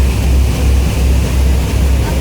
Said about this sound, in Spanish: en este ferry pequeñito